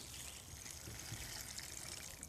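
Water poured onto the dry soil of a freshly replanted pepper plant, a soft, steady trickle heard close but faint for about two seconds, with no voices.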